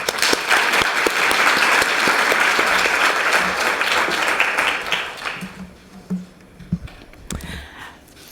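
An audience at a lecture by Professor Martha Finnemore breaks into warm, sustained applause, a dense clapping crowd that fades out over the last few seconds into scattered claps and room noise.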